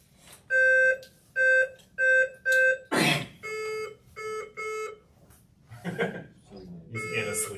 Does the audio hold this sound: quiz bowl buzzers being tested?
yes